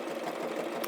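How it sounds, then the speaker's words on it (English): Home sewing machine stitching a quilt block, a fast, steady mechanical whir of rapid stitches, faint and close, alone without talk. "This is just my regular home sewing machine."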